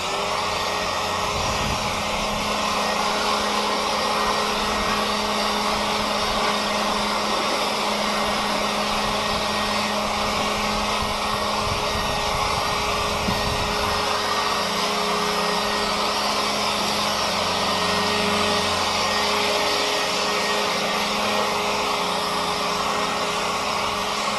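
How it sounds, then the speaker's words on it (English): A Wild Badger Power 20V cordless leaf blower runs continuously at close range, giving a steady high-pitched whirring whine with a constant airy rush throughout. "now let's try the blower"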